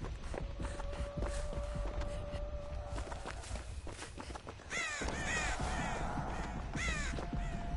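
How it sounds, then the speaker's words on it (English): Crows caw repeatedly in the horror survival game Dead by Daylight, several sharp calls sounding over a constant low ambient drone with faint footsteps and no speech. "Right, crows."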